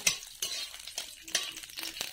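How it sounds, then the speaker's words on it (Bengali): Dried red chillies frying in a kadai before grass pea leaves are added, a short soft sizzle broken by a few light stirring scrapes, close and quiet. "শাক ভাজার জন্য প্রথমে কয়েকটা শুকনো লঙ্কা ভেজে নিচ্ছি শাকে দেওয়ার জন্য।"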